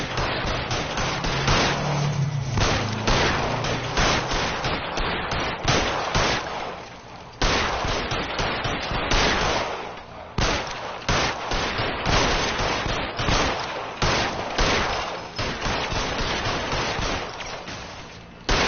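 Gunfire in a video game, steady loud bursts of shots and crackling reports repeating throughout with brief pauses, dense and close.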